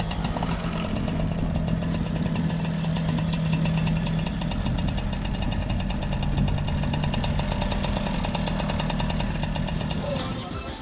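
A liquid-cooled mobylette moped with its original rear engine idles loud and close, a continuous buzzing, rattling putter that runs steadily without a break.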